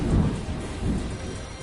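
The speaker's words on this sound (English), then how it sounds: "that is just a massive downpour" A heavy rain downpour roars with rolling thunder in 428: Shibuya Scramble, a loud and dense wash of rain with deep rumbling swells, and nobody speaks.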